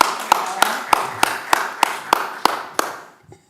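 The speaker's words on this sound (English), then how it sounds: "I think we should applaud our board." Slow, evenly spaced hand claps at a board of aldermen meeting, about nine sharp claps close by in a steady rhythm, then fading out.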